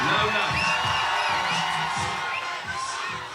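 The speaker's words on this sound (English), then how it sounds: "The crowd is into it" A crowd at a FIBA 3x3 World Tour basketball finals in Montreal, cheering and whooping loudly and continuously while a commentator talks over the noise.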